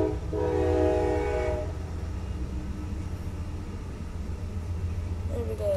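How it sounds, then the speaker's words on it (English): Amtrak's southbound Auto Train rolls past at Folkston, Georgia, with a loud horn blast near the start and then a steady heavy rumble of passing cars, the horn sounding again faintly toward the end. "Oh, southbound auto train."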